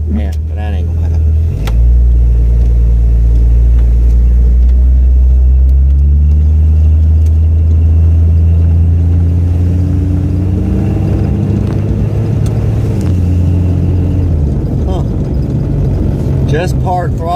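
Car fitted with a 60mm throttle body on a road test, its engine rumbling loudly from inside the cabin as it accelerates through rising, shifting tones, with talk heard under the engine.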